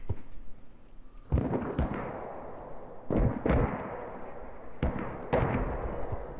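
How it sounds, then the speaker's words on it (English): Mortar shells from the video game Squad land in a string of heavy booming impacts, about four or five blasts spread over several seconds, each a sharp thud with a rumbling tail over a constant battlefield din. "Mortars landing over here"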